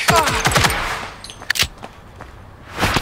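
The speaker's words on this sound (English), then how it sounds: "Keep shooting! Hold it back!" Gunfire in the shooter RICO: London, with a quick rattle of close shots at the start, a sharp single crack midway and another burst at the end, quiet stretches between and no voices.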